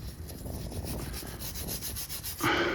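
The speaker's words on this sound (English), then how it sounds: "this brush right here, I'm gonna clean all this rust away" A wire brush scrubs rust from the wheel hub of a 2009-2015 Toyota Venza, a close, steady rasping rub in rapid repeated strokes, ending in a sharper, brighter scrape.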